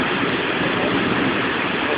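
Heavy rainwater rushes down a street on Avenida Paulista during a strong downpour, a dense, steady roar of flowing water with no break.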